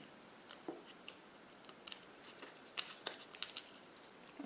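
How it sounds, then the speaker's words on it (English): Scissors snip tape into small pieces while a paper mache wolf mask is made, a string of faint, close, irregular clicks and cuts in a quiet room. "So I'm cutting the edges of my tape into pieces so that I can fold just one piece back at a time."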